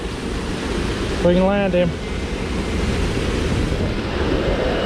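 Waterfall near a stream where a brown trout is being landed on a round head jig, a steady broadband rush of falling water filling the whole clip, with someone speaking briefly over it.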